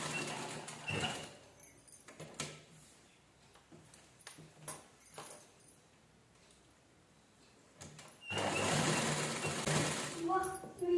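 A sewing machine stitches leftover blouse fabric scraps in short, close runs separated by pauses, then finishes with a longer, louder continuous whir near the end.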